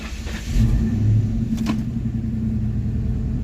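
A project car's engine cranks and catches, then settles into a steady low idle rumble, close by and fairly loud, with a brief rev-like rise near the start.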